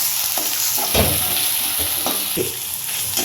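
Boiled water is poured onto lightly fried spice paste for a red rohu fish curry, setting off a steady hiss with sharper sizzling bursts and scraping stirs, close and fairly loud, no voices.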